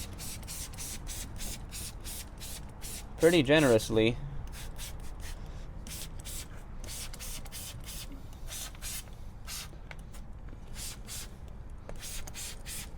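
Rapid bursts of spraying hiss repeat in quick succession, a close chemical-resistant trigger sprayer pumping diluted acid cleaner onto a car wheel again and again, with a brief spoken remark partway through.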